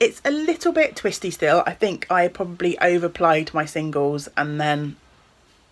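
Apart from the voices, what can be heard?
No distinct noise like a dog, phone or traffic.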